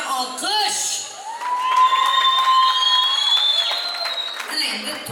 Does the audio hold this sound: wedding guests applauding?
yes